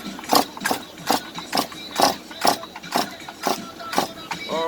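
A Stihl MS 201TC chainsaw engine is revved while being tested, giving a run of about ten evenly spaced, loud chugging bursts that rise and fall without settling into a steady roar.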